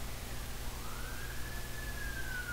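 A single faint siren wail rises and holds in the distance over a low, steady background rumble.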